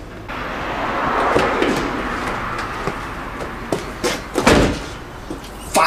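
A door is opened and closed in a domestic setting, with scraping and knocking bumps building toward a couple of sharper thuds near the end, loud and close.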